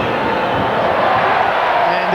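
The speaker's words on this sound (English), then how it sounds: "And the crowd tells you he's pushed it right." A large football stadium crowd at an AFL match between Adelaide Crows and West Coast Eagles groans and murmurs after a missed set shot, a broad steady roar filling the whole moment.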